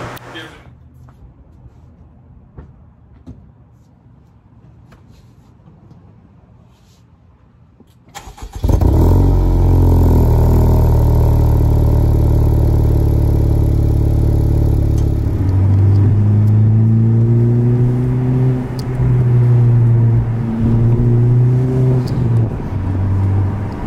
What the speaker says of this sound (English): The rev matches sound amazing.